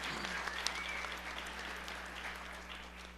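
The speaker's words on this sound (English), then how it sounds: "Everybody clap for themselves for just coming out and participating in" Audience at a town hall gathering clapping steadily throughout, a dense, sustained burst of applause from a crowd filling the room, fairly distant and even in level.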